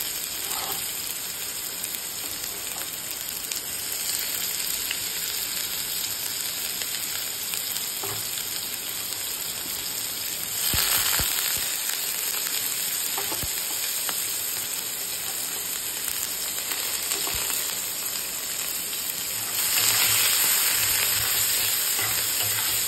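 Onions frying in hot oil in a wok (kadai), a steady loud sizzle running throughout with brief louder surges as pieces are added and stirred.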